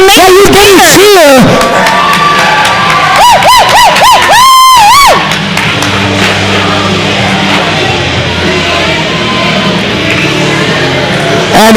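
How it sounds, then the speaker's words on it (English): Crowd noise at a roller derby bout in the TXRD Thunderdome: loud cheering and shouting from a large audience, sliding whistle-like noisemaker sweeps early on, then a continuous roar of babble and cheers. "So you can cheer."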